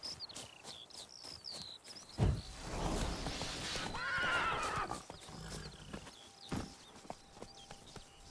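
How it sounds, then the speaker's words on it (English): Roach, the horse in the video game The Witcher 3, gives a whinnying neigh amid clip-clopping hooves, with birdsong and ambient game sounds around it, moderately faint with no talking. "Whoa there, Roach"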